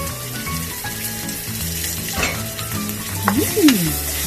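Eggs for Thai braised eggs fry in just a little oil in a pan, with a steady close sizzle, stirring scrapes and a few spattering pops.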